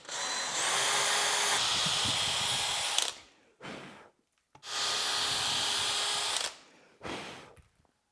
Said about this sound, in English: I'm just going to drill a hole down the center of this bigger hole.